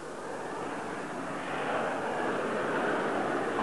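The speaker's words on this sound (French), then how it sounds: "Vol stationnaire, l'avion est très aisé à manœuvrer et évolue aussi facilement qu'un hélicoptère" The Dassault Balzac experimental vertical-takeoff jet hovers on its lift engines, a steady broadband roaring whoosh that swells slightly louder midway and holds, heard from some distance without talk.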